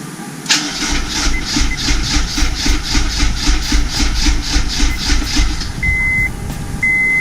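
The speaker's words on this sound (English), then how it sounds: "Okay, so it's just going to crank over right now." A Honda S2000 engine cranks over on a low battery with a steady, rapid, loud rhythmic churning that runs for several seconds, ending in a couple of short electronic beeps.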